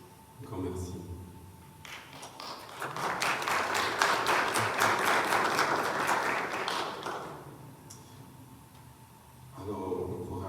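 Church congregation at a Sunday Mass applauding, a swell of many hands clapping that rises and fades in the middle, with a speaker's voice before and after.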